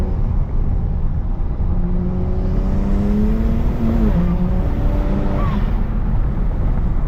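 BMW 335i with the N54 twin-turbo engine in a hard pull, a strong rising engine tone and turbo whine, then a brief blow-off valve release near the end, loud and close.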